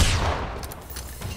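Gunfire in the video game Generation Zero, with a burst of shots at the start fading into a distant, decaying rumble of fire at low volume.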